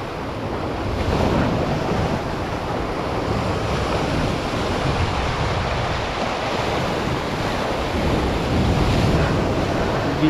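Ocean surf rolling steadily near a fishing spot, with wind buffeting the microphone throughout; a continuous broadband wash of waves with no voices.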